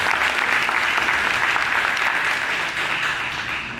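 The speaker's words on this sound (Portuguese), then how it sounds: "Vamos dar um aplauso para Jesus." A church congregation applauding together during a couples' gathering, a steady, dense wash of clapping that holds evenly for several seconds and eases slightly toward the end.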